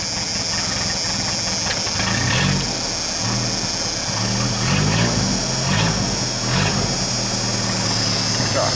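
A 1988 Dodge Dakota's 2.2-liter engine idles through a straight pipe after its muffler came loose, a loud, raw, rumbling exhaust drone with uneven pulses and a few louder surges, heard up close.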